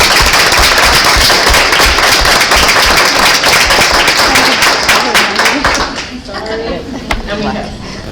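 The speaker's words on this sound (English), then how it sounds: "A big collective applause for all of you" Loud collective applause from an audience at a school district board of education meeting, welcoming new staff; dense clapping fills the room for several seconds before thinning out, with voices talking over it.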